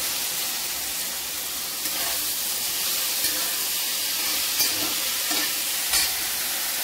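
Chopped onion greens dropped into a hot turmeric oil tempering in a pan, a steady loud hiss and sizzle with scattered crackles, close up, with no talking.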